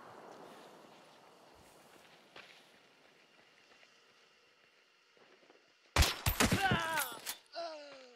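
Gunfire in the Hunt: Showdown video game, a quiet ambient stretch with a faint distant pop before a sudden loud burst of sharp shots and crackling impacts near the end.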